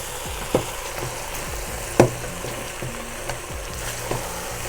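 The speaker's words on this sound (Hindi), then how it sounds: "सारा चिकन डाल दिया हमने और ये अंडे। इनको अच्छे से मिक्स कर लेंगे।" Chicken and eggs frying together in a pan for Chinese rice, a soft steady sizzle broken by a few sharp clacks of a utensil being stirred against the pan.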